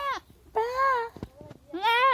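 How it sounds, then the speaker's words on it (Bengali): A goat bleats three times in a row: a short call, then a long wavering bleat, then another drawn-out one after a brief pause. The calls are close and clear with a little background noise. "এই যে ছাগল"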